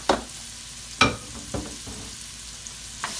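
Onions and mushrooms dropped into an oiled pot, a few sharp thuds and clatters from stirring over a soft low sizzle, close by and quiet.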